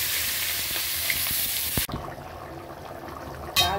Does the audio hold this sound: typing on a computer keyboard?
no